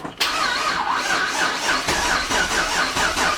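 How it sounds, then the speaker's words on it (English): A 1999 Holden R8 Clubsport with a new cam cranks over on the starter, a loud, close, steady rhythmic churning that continues unbroken for about three seconds without catching, no talk. "now I think we'll just crank her over and make sure the oil light"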